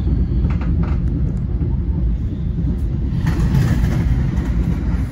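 A passenger train pulls into Wates station, a steady loud low rumble of wheels and rolling stock running alone for several seconds.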